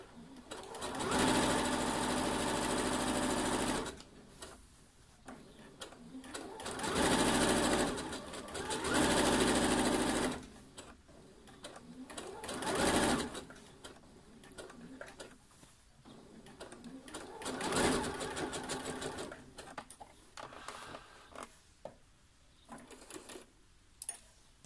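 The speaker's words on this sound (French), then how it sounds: "je couds dans la marge de couture" A sewing machine stitches a puffed sleeve, running in several bursts of rapid, close whirring separated by short pauses, with faint quiet sounds between.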